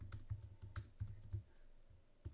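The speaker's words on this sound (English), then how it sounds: "all I want you to do is type this little bit of code" Typing on a computer keyboard while entering a short line of code, with clusters of quick, close key clicks broken by brief pauses and a louder keystroke near the end.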